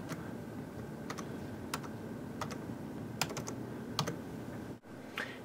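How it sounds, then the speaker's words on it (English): Keys clatter on a computer keyboard in uneven bursts of quick clicks, close and clear over a steady room hum, with one brief dropout near the end. "I'm going to enter right here and type in my second text."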